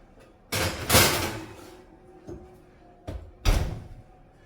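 An oven door opens and shuts in a home kitchen as a sweet potato cake goes in: two separate bursts of knocking and rattling, the second shorter and sharper, with quiet room tone between.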